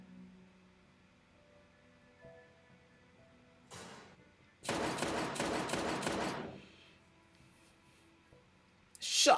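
A TV drama scene fills with a dense burst of rapid gunfire lasting about two seconds, preceded by a brief swell of noise and followed by quiet with a final loud hit.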